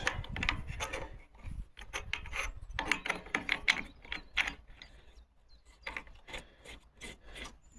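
Parts being screwed together by hand on a Parkside PPFSA40LiB3 cordless 2-in-1 brush cutter, giving close, irregular ratcheting clicks, rubbing and scraping of plastic threads in short bursts, quieter toward the end.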